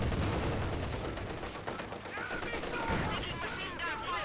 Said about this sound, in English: Hekkura is now engaging with the machine gun in the building here